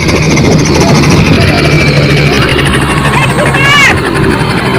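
A helicopter carrying doctors lands at a floating ship hospital, its loud, steady rotor and engine drone filling the scene close by while people talk over it.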